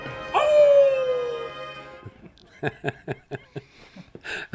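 A long, sliding howl rises then falls, followed by a run of rapid yips and short howls in quick bursts, as people imitate coyotes.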